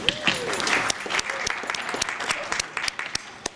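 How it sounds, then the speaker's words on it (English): Scattered applause from a small audience at an Academy Awards Governors Ball event, sparse claps that thin out into a few distinct, separate hand claps. "Thank you for the warm applause"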